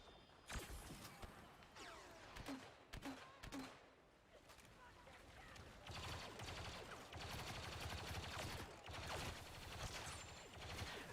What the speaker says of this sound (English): I can't see, that's why I'm firing wildly.